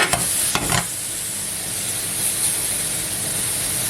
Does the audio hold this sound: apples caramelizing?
yes